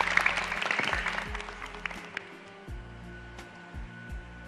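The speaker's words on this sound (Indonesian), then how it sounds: "Kasih tepuk tangan buat Kak Ratna." Applause from an indoor audience at a televised Ramadan programme, a loud burst of clapping that fades out over a few seconds while a low hum drones beneath.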